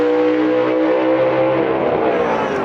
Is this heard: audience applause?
no